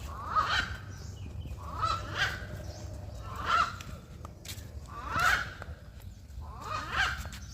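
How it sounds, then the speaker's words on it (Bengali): An eagle calling: five loud, harsh honking cries spaced evenly about every second and a half, heard outdoors over a low background hum. "ব্যতিক্রম ধর্মী পাখির ডাক, ঈগল পাখি।"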